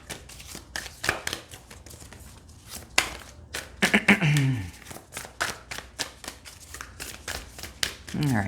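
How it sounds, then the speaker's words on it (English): Tarot cards are shuffled by hand in a run of quick, crisp riffling and tapping bursts, close and fairly quiet, with someone speaking softly between and over them. "we are just gonna take a couple more shuffles"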